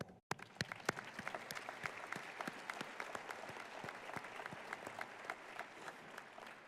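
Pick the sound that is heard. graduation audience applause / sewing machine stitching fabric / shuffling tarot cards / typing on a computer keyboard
graduation audience applause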